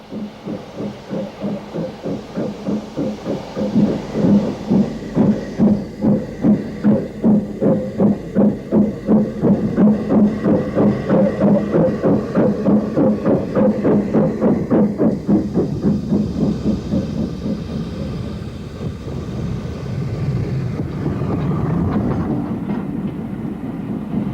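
Preserved railway train on the Kent & East Sussex Railway pulling away from Northiam, a steady clickety-clack of wheels over rail joints building in pace, loud and close, then fading slightly as it moves off.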